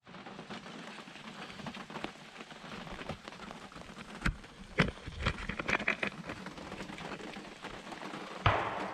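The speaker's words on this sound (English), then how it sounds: "It's pouring rain out here." Pouring rain drums outdoors during an early-morning hog hunt, a dense, loud patter broken by sharp taps and drips close by.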